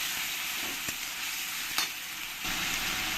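Onion paste frying with garam masala in a hot pan gives a steady, fairly loud hiss and sizzle, with a few soft clicks and a brief scrape midway, and no voices.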